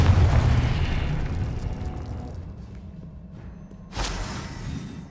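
Confringo spell explosions in Hogwarts Legacy: a heavy booming blast at first that slowly decays, then after a quiet stretch a second sharp burst cracks out near the end.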